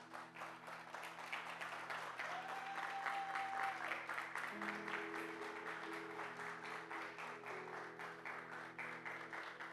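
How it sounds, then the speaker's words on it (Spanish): A church congregation at a Resurrection service claps steadily for nearly ten seconds, a dense even roar of hands, while sustained music tones and a brief voice line sit beneath it. "dale un fuerte aplauso a Dios."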